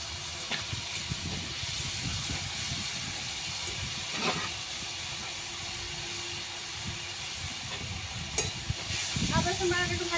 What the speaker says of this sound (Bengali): আদা রসুন বাটা একটু ভাজা ভাজা হয়ে গেছে।